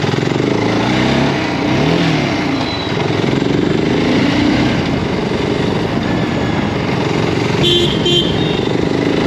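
A BSA Gold Star 650 motorcycle ridden on the street, its engine drone loud and continuous throughout, with a brief higher tone near the end that may be a horn.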